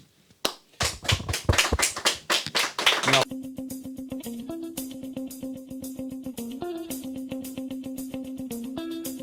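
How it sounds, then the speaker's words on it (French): Audience clapping in rhythmic, evenly spaced claps, loud at first and then softer beneath a sustained musical tone that steps in pitch. "Allez-y, applaudissez."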